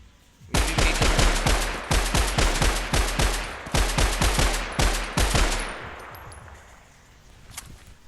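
Rapid automatic gunfire in the video game Minecraft rattles out in several loud, close bursts separated by brief pauses, then trails off into a fading echo.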